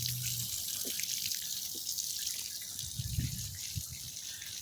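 Water from an artesian well flows steadily outdoors in early March, a continuous hiss of running water with a few faint low splashes and knocks, alone and without speech.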